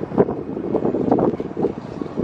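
Steady gusty wind on the rooftop of Osaka's Umeda Sky Building buffets the microphone, a broad low rumble rising and falling in uneven surges with no voices.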